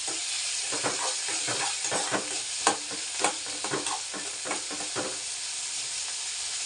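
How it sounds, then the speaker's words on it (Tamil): Tomato sautéing in a hot pan for a South Indian dish, a constant bright sizzle with repeated scraping stirs of a spoon throughout, close and fairly loud, no speech. "இந்த தக்காளியும் போட்டு நல்லா வதக்கணும்"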